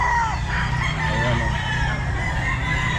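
A rooster crows amid a crowded, noisy poultry market yard of clucking fowl, the calls rising over a constant background din.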